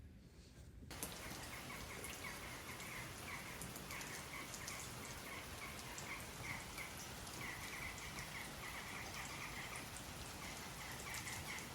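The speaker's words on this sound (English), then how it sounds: "The rain." Steady rain patters continuously on a rainy day in the Netherlands, a dense even hiss of drops falling on surfaces with no voices, constant and moderately close.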